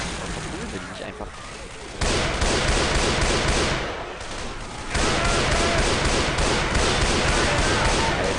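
Rapid bursts of Left 4 Dead 2 gunfire crackle loudly and continuously, with voices talking over the shooting.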